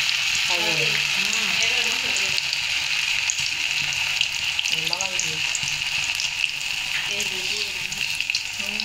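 Pieces of food fried in very hot oil give off a loud, steady, crackling sizzle throughout, with a faint voice in the background at times.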